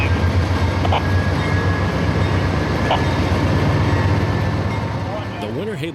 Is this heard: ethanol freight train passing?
yes